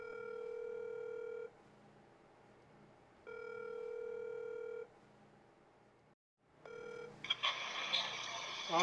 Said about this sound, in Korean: 경기도에 있는 가족들에게 영상통화를 하는 것이다.